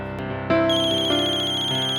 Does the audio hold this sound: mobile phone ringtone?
yes